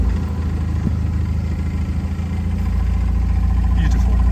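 A 1954 Austin Healey 100/4 engine idles steadily with a low, even rumble and faint vibration close by, no starting crank evident, running alone throughout.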